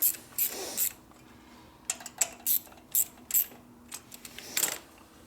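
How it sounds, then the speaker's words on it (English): A ratchet wrench clicks in short, uneven bursts as it torques a bolt on a 1964 Harley-Davidson Sportster XL Ironhead chopper in a garage. The metallic clicks and clinks are close and fairly quiet, with no talk. "Let me put some more torque on it."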